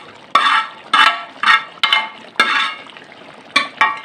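Browned onion goes into a pot of chicken karahi and is stirred, producing a series of wet, sloshing scrapes in an uneven rhythm, close and fairly loud with no talking.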